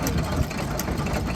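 An International Famous vertical hit-and-miss engine runs at a vintage engine rally, giving a steady low chugging beat at moderate distance against busy outdoor background noise.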